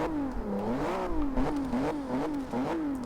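A 2015 Volvo S60 Polestar in the Forza Horizon 2 racing game revs hard, its engine note rising and falling in repeated surges as the driver works the throttle, loud and close with no talk over it.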